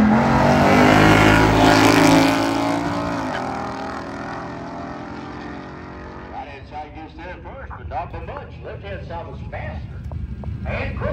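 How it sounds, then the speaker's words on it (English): A car at speed on a race track, a loud engine roar peaking early and then fading to a steady drone, with people talking over it in the later part. "Oh, it's a black Camaro, Jay."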